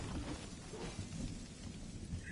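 The storm in the video game Fortnite rumbles and hisses as a continuous, dense noise, loud and close, with no one speaking.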